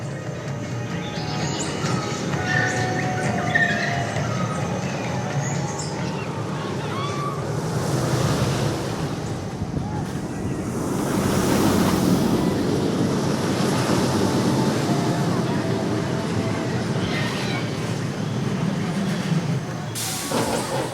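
Loud, steady rush of wind roars across the whole ride on the Pantherian giga roller coaster at Kings Dominion, swelling midway as the train picks up speed, with no talk over it.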